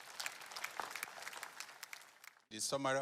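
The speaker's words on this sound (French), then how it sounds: "Applaudissez pour elle" Audience applause at a church service, a fairly faint, moderate patter of clapping that stops abruptly and gives way to a voice speaking.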